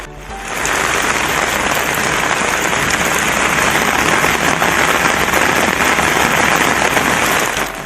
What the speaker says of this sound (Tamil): திருவாரூர் நகர்பகுதி, வடபாதிமங்கலம், கமலாபுரம், மாங்குடி, சேந்தமங்கலம், கங்களாஞ்சேரி ஆகிய இடங்களில் தொடர்ந்து மழை பெய்து வருகிறது.